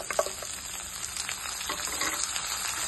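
Finely chopped potatoes fry in a pan with garlic, green chillies and curry leaves for a potato cauliflower curry: a constant close sizzle with light crackles and faint stirring scrapes, and no voices.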